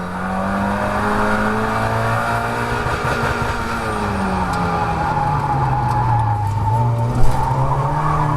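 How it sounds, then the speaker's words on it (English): A Mazda MX5 race car braking hard and downshifting at Croft circuit, loud and close: the engine note sweeps and drops through the gears with a sustained tire squeal and skid over steady onboard roar. "Mess up my braking there, missed the third downshift."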